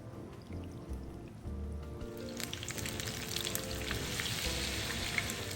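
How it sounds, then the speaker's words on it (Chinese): Batter-coated stuffed tofu dropped into oil heated to about 170°C, a low bubbling rumble that bursts into a bright, busy sizzle with scattered crackles, close and continuous. "再將釀豆乾均勻裹上麵糊，然後放入熱油中油炸"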